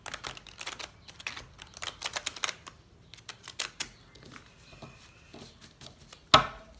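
Large oracle cards being shuffled by hand, giving a run of soft papery riffles and slaps through most of the stretch, with quieter gaps and one sharper slap near the end; no talking.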